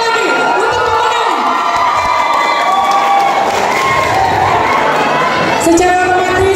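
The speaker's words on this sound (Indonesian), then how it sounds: "berikan tepuk tangan sekali lagi untuk pemenang." A large crowd at an evening pageant crowning the Aceh Singkil 2023 tourism ambassadors claps and cheers loudly and continuously, with shouts and whistles throughout.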